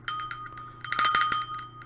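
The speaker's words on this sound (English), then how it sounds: "So you can see it's a little bell." A small metal hug bell tinkles in a few light single rings, then rattles into a brief rapid jingle before fading, bright and close with no voices.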